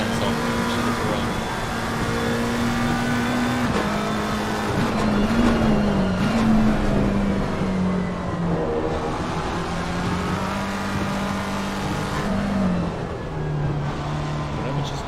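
Race cars lapping Silverstone in a racing video game, including a Ferrari, with engines droning steadily throughout, pitch rising and falling through gear changes and passes, under constant commentary.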